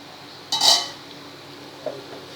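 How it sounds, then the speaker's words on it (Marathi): Metal lid lifted off a pot of carrot sabzi cooking on a low gas flame, a single bright clinking scrape followed by a faint light tap. "आता आपण झाकण उघडून बघूया आपली भाजी शिजली की नाही ते"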